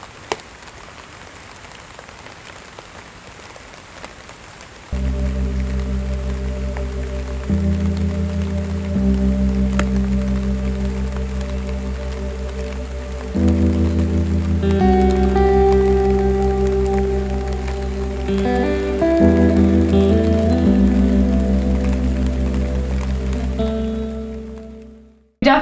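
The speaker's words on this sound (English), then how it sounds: "and then the rain came." Steady rain drums on the roof of a small old camper van, a continuous hiss and patter that runs throughout while a low tonal hum comes and goes underneath, with no talking.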